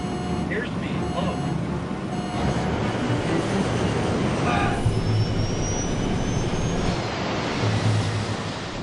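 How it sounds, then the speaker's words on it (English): A Qantas Airbus A380 airliner rolls down the runway after landing with a thrust reverser and some spoilers out of action. A continuous roaring rumble runs throughout, and a voice talks over it. "The plane is gobbling up 80 meters of runway every second."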